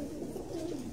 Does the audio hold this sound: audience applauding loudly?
no